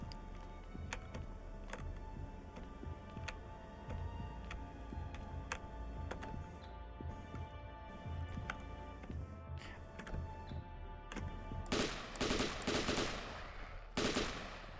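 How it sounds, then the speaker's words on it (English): Sharp gunshots from a hunting rifle in The Last Stand: Union City, single cracks spaced irregularly over a busy game soundtrack, with a denser burst of louder blasts near the end. "We could try the hunting rifle"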